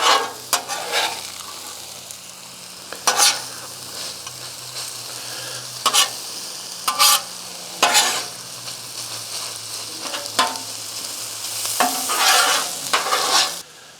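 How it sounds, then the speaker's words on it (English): Peppers and onions, added to a pan with bacon, sizzle steadily up close as a spoon scrapes and stirs them in repeated sharp bursts. "Let's put our peppers and our onions in it."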